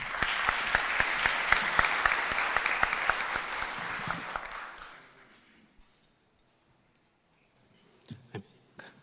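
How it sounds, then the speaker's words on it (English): Audience applause at a startup demo day pitch event, dense clapping for about five seconds that then stops abruptly, followed by quiet and a few brief handling noises. "Applause for him."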